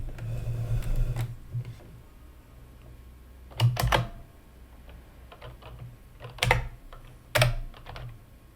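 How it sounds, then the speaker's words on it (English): Clicking keystrokes on a computer keyboard, close and fairly quiet, coming in short irregular bursts with a few louder clacks. "Let's try typing on the keyboard."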